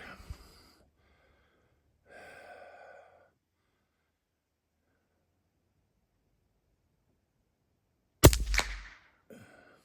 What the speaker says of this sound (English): Let's see how these sound. Lighter bullet.